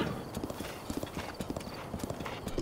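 Horse hooves clatter in a steady galloping rhythm in the video game Breath of the Wild, a continuous run of close, moderately loud clip-clop beats.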